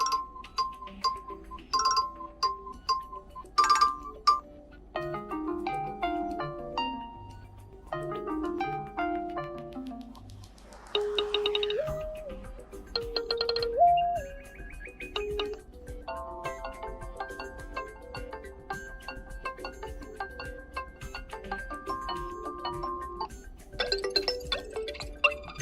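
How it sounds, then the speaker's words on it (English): An iPhone 17 plays ringtone previews from its ringtone list, one after another: a series of chimes, melodic jingles and tones, each brief and fairly quiet, cutting off as the next begins. "Now if I tap any ringtone from the list, we will hear it"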